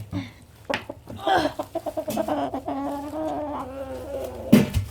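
Chickens cluck and squawk close by in a series of rising, warbling calls, with a few sharp clucks and a brief burst near the end.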